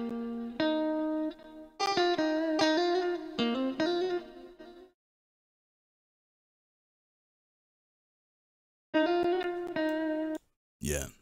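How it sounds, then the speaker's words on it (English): A live-sampled electric guitar from the Arcade plugin in FL Studio plays bright, clean chord stabs in a short rhythmic phrase, falls silent for several seconds, then returns with another few chords. "So this is like a sample electric guitar, a live sample electric guitar from Arcade."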